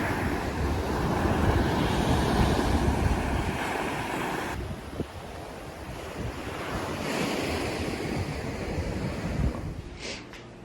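Surf breaking on a beach under strong gusting wind, a loud continuous wash of waves with heavy wind buffeting on the microphone, no voices.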